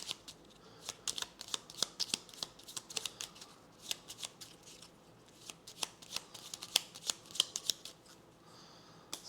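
Playing cards for the board game Aeon Trespass Odyssey are shuffled close up, giving a steady run of crisp riffling snaps and slides with no talking.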